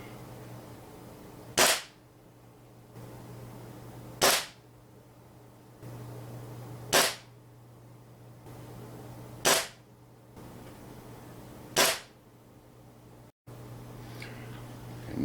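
A Benjamin NP2 .22 caliber pellet rifle fires five sharp, close shots at regular intervals of roughly two and a half seconds, each a crisp crack over a faint steady hum.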